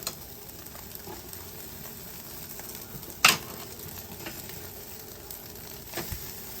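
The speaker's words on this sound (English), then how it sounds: "So now I'm able to sear that side of that steak." Steak sears on the hot side of a two-zone kettle grill, a steady close sizzle with a sharp crackle midway and a few softer pops.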